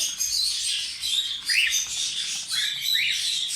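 Cockatiels in a family flock kept by a breeder, including lutino and pied birds, give repeated high chirping squawks and calls, fairly close and continuous with brief louder bursts and no talking.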